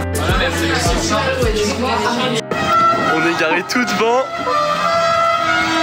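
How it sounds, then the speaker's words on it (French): Car horns honk repeatedly amid the Renault 4L crowd at the 4L Trophy 2022 rally, with engine noise and people chatting close by. "C'est génial ce klaxon là"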